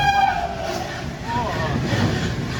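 An Indian Railways train horn sounds in long, steady tones over the rumble of a moving train near Ankleshwar, heard from aboard, fading as a voice talks nearby.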